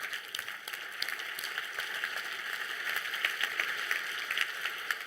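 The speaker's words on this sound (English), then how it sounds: "Big round of applause to our volunteers." Audience applause at the International Mathematics Olympiad 2025 closing ceremony honours the volunteers, a steady wash of many hands clapping that keeps up for about five seconds with no voices over it.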